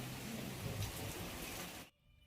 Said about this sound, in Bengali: কীরকম দেখো বৃষ্টি পড়ছে